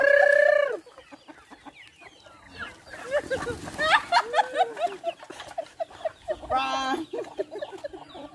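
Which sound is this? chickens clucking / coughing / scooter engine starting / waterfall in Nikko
chickens clucking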